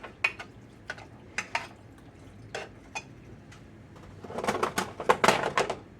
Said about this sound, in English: you just want to mix this up